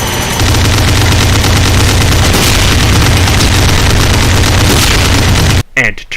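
Plasma shots and rail gun fire from a Doom mod form a dense, loud, continuous barrage of blasts and booms that cuts out abruptly near the end.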